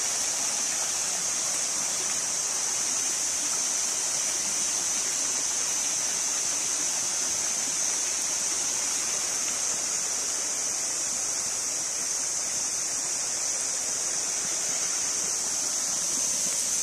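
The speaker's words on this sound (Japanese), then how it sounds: "泉から川になっていますね。" Spring water flowing out of its source into the start of a stream, a steady, close rushing and gurgling wash that continues unbroken, with no voices.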